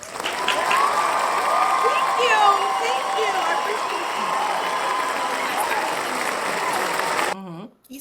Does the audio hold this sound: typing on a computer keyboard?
no